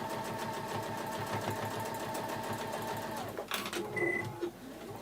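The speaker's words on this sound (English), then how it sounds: "we've got a lot to sew today" A sewing machine stitches in a rapid, steady mechanical rhythm up close, running continuously before slowing and stopping near the end with a few clicks.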